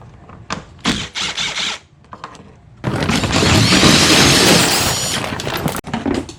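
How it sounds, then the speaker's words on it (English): A socket ratchet removes the CVT cover bolts on a 2012 Can-Am Outlander 800R XMR ATV, heard as close, short clicking bursts followed by a long, loud, continuous spinning whir, then more clicks. "They have a hole for an Allen key, or you can use a socket to remove them."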